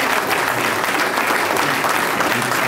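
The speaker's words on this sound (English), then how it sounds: "Let us give our sister a round of applause" Audience applause welcomes Minister Dr. Ava Muhammad to the stage: a dense, steady roar of many clapping hands that fills the whole stretch at an even loudness, with no voices over it.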